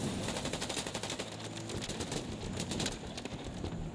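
Rapid bursts of gunfire in the video game Fortnite, a dense rattling stream of shots that runs steadily through the moment without clear gaps.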